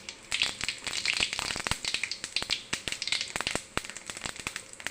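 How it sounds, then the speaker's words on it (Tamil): Mustard seeds splutter and pop in hot oil in a pan while tempering for an avarakkai (field bean) fry: a dense, rapid series of sharp crackles and snaps, close and continuous, with no voices. "கடுகு நல்லா பொரிஞ்சிச்சு"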